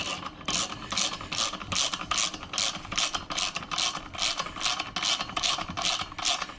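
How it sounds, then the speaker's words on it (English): A valve spring compressor ratchets steadily on a valve spring of a 2012 Hemi engine from a 1500 pickup, its rapid, even clicks repeating close and loud throughout. "we're going to compress that spring until we can get our keepers onto the valve stem"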